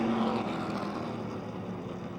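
Race cars at Motordrome Speedway drone past at a distance as a steady, fairly faint engine roar that fades slightly.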